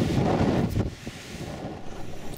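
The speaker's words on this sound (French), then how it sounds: "Je monte et le vent se déchaîne." Strong wind gusting loudly across a hillside path near the coast between Saint-Tropez and Sainte-Maxime, buffeting the microphone in heavy roaring bursts that ease slightly midway, with no voices.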